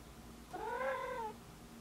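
A house cat gives a single drawn-out meow lasting under a second, clear and fairly close against a quiet room.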